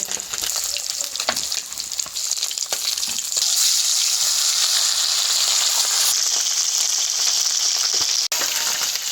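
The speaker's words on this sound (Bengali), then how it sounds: "বাকি মাছগুলো ভেজে নিলাম, তুলে নিচ্ছি।" A last batch of Indian mackerel sizzles in hot oil in a pan, a loud, steady hiss with scattered crackles and a brief thump near the end. It is heard alone, with no speech.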